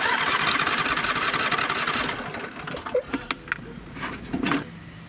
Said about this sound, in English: Well, it's cranking, it's just not starting.